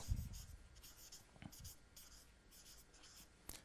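Pen or marker writing a short English sentence on a board during a grammar lesson, faint scratchy strokes in short bursts with quiet room tone.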